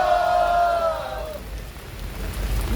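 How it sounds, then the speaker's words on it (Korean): A crowd at an outdoor protest declaration applauds in a hissing, rain-like patter, with a sustained voice tone fading out during the first second and the clapping continuing alone. "우리 오수록 수사님께 다시 한번 힘찬 박수 부탁드리겠습니다"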